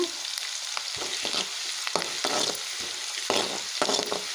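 Onions sizzle and crackle steadily in a hot pan, with a spoon stirring and scraping through them now and then.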